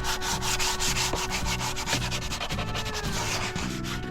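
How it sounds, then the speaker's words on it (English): A razor blade scraping flaking, discolored varnish off sailboat wood down to bare timber, making close, loud, rhythmic rasping strokes repeated about every half second against a steady background tone, with no talk. "I'm using that razor just to get those really bad places that are really like flaking off and discolored, and get it back down to raw wood"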